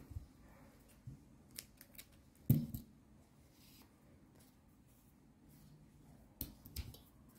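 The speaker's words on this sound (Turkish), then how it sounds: "Şöyle biraz uzun bırakıp kesiyorum." Scissors snip crochet yarn while a doll's arm or leg is being made. A few small, close clicks and cuts come at uneven intervals, with one sharper snip in the middle, over a quiet background and no speech.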